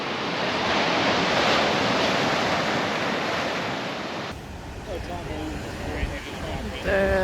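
Ocean surf breaks at a surf competition in Hawaii. A loud, steady roar of crashing waves with wind fills the first few seconds, then the scene cuts abruptly to a quieter, choppier mix with faint voices.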